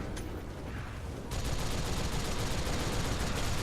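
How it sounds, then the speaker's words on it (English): A heavy machine gun turret in the Ninja Blade video game opens up after a short pause, then fires a loud, dense, unbroken stream of rapid shots to the end. "You can switch it from heavy ordnance to heavy machine gun"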